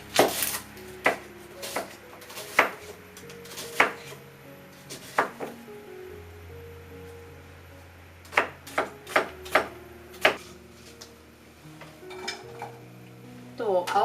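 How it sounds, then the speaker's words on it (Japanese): A kitchen knife chopping onion on a cutting board for vegan Thai gapao rice, with irregular sharp taps in short bursts separated by pauses, close and crisp, with occasional faint utensil clinks. "で、あと玉ねぎを切っていきます。"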